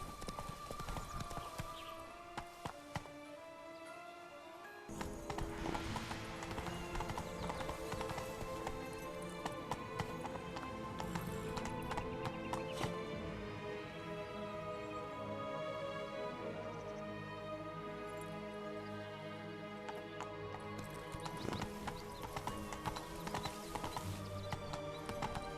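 Horses galloping in a race in The Witcher 3, continuous hoofbeats with occasional whinnies running under a swelling orchestral score, faint throughout.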